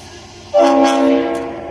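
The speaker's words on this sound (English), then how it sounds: "Locomotive number 710, built in September of 1950 by the Electro-Motive Division of General Motors" A 1950 EMD diesel locomotive, NC&StL 710, sounds its horn on a turntable in East Chattanooga, a sudden loud, close, sustained chord over low engine rumble, with no talking.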